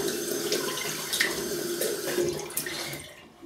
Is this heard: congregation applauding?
no